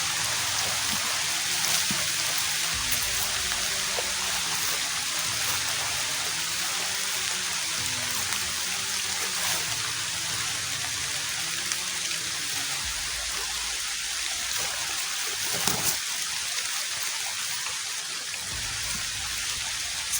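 Steady rain falls continuously with a broad, even hiss and scattered drops, moderate in level and without voices, while the speaker shelters outdoors with no umbrella.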